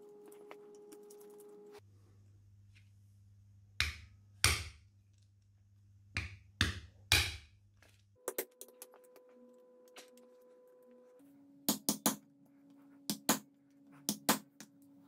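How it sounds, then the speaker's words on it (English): A Phillips head impact screwdriver is struck against screws on an R33 R200 limited-slip differential, giving several sharp metallic hits in small clusters with pauses between them, close and fairly loud, with no talk. "Grab your Phillips head screwdriver, impact screwdriver."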